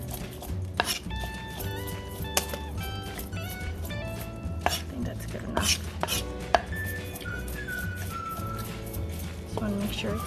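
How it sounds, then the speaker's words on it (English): Knife slices through bean thread noodles on a cutting board in a home kitchen, a run of quick, close chopping taps under a steady background hum, with scattered clinks of dishes. "we're going to actually cut our bean thread first and we're just going to gradually just slice it just like that"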